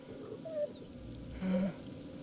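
Faint, high whimpering cries in The Devil in Me horror game forest, two brief whiny squeals over a low ambient hum.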